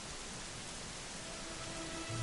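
Rain falls in Dragon Quest XI as a soft, even hiss of drops that stays quiet and unbroken from start to finish, with no voices.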